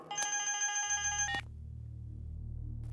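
A telephone rings loudly for about a second and a half, then cuts off abruptly, leaving a low rumbling background.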